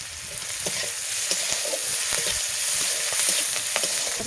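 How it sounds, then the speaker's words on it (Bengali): Chopped onions, curry leaves and nigella seeds fry in hot oil, a continuous close crackling sizzle with occasional stirring scrapes and pops, no voices. "পেঁয়াজ ভাজা হয়ে গেছে"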